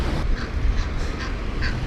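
Baby Egyptian geese give a few short, thin peeps and calls outdoors beside a path, heard faintly over a steady rumble of wind and riding noise.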